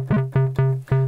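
Pulse-width-modulated oscillator on a Korg Mono/Poly or Behringer MonoPoly analog synth, its pulse width swept by the envelope: four loud, buzzy repeated low notes in quick succession, each with a bright attack that mellows as it decays, with no voices.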